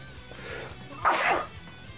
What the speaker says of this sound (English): Sorry, I'm gonna sneeze.